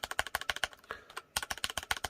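Keys tapped rapidly on a computer keyboard, a close, steady burst of sharp clicks that pauses for about half a second, then resumes at the same quick rhythm, with no voices.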